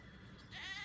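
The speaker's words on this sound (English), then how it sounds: "Letting all these sheep, lambs, goats out onto some fresh grass." Sheep, lambs and goats being let out onto fresh grass bleat outdoors, a few calls rising louder toward the end over steady background rumble.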